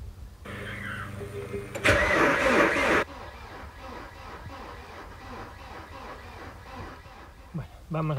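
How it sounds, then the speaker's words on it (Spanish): An Opel Frontera 2.2 DTI 16V diesel cranks briefly after its injection pump is primed, then fires with a loud burst and settles into a rough, rhythmic knocking idle close by. "vamos a arrancar el coche"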